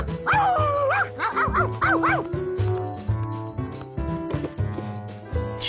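Loud, springy barks and yips come from a cartoon dog in Curious George, several quick bursts up front, followed by busy cartoon music and effects.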